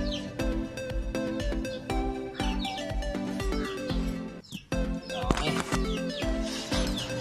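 Opaline pale fallow pet birds chirping in a cage, repeated short tweets and calls scattered throughout over a loud rhythmic music track with steady beat.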